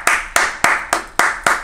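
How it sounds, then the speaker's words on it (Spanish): Six sharp, evenly spaced hand claps, close and fairly loud, each ringing briefly before the next, with no talk over them. "Fuerte el aplauso"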